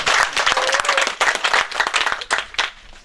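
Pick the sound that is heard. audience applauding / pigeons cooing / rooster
audience applauding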